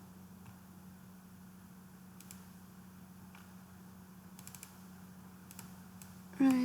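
Sparse, soft keystrokes on a computer keyboard, with the Enter key pressed several times in quick little bursts, sit over a constant low electrical hum and end in a brief louder knock.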